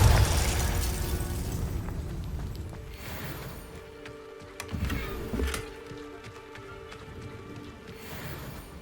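Confringo fire spells in Hogwarts Legacy burst with booming blasts, a heavy rumbling explosion at the start followed by further pops and thuds against a dense battle backdrop.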